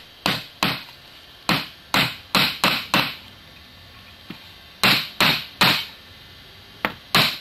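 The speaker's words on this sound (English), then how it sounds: "now I'm just gonna pound him into the wood" A hammer pounds a spring clip into wood, landing as about a dozen sharp, loud, close blows in uneven clusters with short pauses between them.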